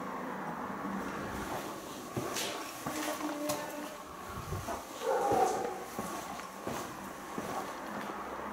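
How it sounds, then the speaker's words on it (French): A dog barks and whimpers at night inside a reputedly haunted abandoned place, a few scattered, moderately distant yelps amid a dim, rumbling background. "J'ai entendu un chien."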